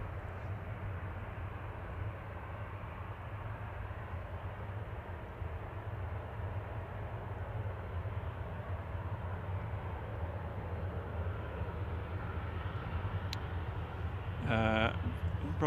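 Lufthansa Retro airliner at Manchester Airport, a steady distant jet engine roar and low rumble sustained throughout, with a short burst of voice near the end.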